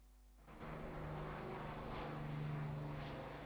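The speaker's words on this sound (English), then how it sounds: "The last pair of Lancasters left flying roared over RAF Waddington." Two Avro Lancaster bombers fly overhead at RAF Waddington, their propeller engines rising into a sustained, broad droning roar that stays loud and steady throughout.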